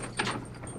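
A cell door being locked, a short metallic clunk and rattle of a latch or key, close and fairly quiet, over in under a second.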